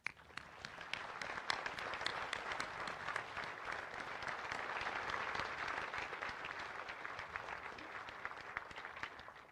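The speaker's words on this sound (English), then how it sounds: "Please join me in offering a heartfelt round of applause" Sustained audience applause for World War II veterans and Rosies at a Pearl Harbor anniversary ceremony in Hawaii, a dense steady wash of many hands clapping at moderate distance with no talk over it.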